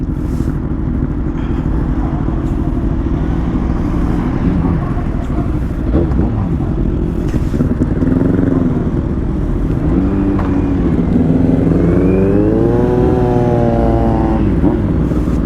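A Kawasaki ZX6R motorcycle ridden on a road in Labrador, Pangasinan, its engine rumbling loud and close, then revving up and down in rising and falling sweeps near the end.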